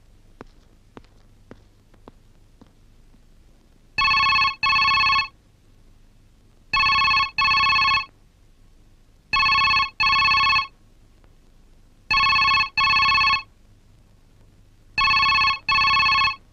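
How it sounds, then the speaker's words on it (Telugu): A telephone ringtone sounds indoors in a house, loud and clear, in five evenly spaced pairs of bright electronic rings separated by quiet gaps. "Phone sir. కాస్త చూడండి."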